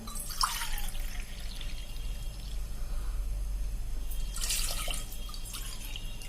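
Water pours in two short bursts into a pot of black chickpeas, separated by a stretch of low, steady background hum.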